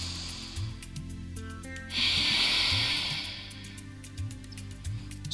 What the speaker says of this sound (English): we're just going to take a few deep breaths here